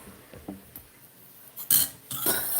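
A knife clinks and taps several times against a plate or tray while cutting warm sesame and jaggery til vadi, soft scattered knocks followed by two louder scraping strikes near the end.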